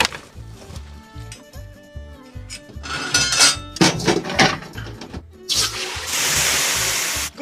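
Water is poured from a pot into a cooking pot outdoors in a herding area, ahead of boiling beef shank bones; a rushing pour comes near the end, under loud rhythmic background music.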